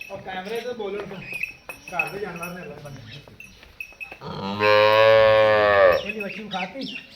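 A Cholistani Friesian cross cow gives one long, loud moo in a farmyard, following quieter animal sounds, with faint clinks nearby.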